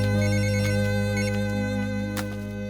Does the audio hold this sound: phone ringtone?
yes